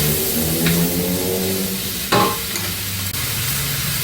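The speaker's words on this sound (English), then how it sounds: "Stir everything together and fry until aromatic." Pork with green screw peppers, chilies and ginger stir-fried in a wok, a loud continuous sizzle with scraping stirs of the spatula throughout, no voices.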